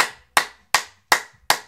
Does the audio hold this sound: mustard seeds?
no